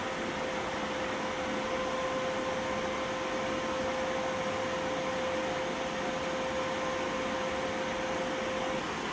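An Iceriver KS3 Kaspa ASIC miner with its fans maxed at 100% and a silencer fitted on the exhaust side gives off a steady, loud, close rushing roar with a thin constant whine, unbroken for the whole stretch and with no voices.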